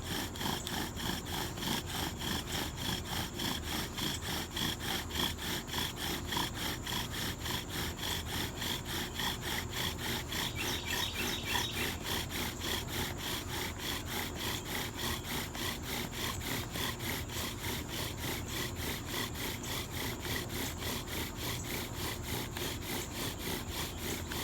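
A bow drill spins a spindle on a red maple fireboard with a bark tinder bundle nearby, a fast regular back-and-forth rasping and squeaking that repeats evenly and close up for the whole stretch, with no speech.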